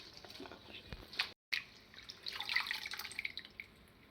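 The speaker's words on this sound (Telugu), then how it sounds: "ఇలా నీళ్ళు వచ్చేటట్టు తీసుకొని ఇంకో గిన్నెలోకి ఇలా తీసుకోవాలి" Washed gongura leaves drip water into a bowl in faint, scattered splashes and trickles, with a brief gap partway through.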